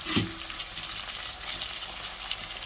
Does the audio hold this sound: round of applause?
no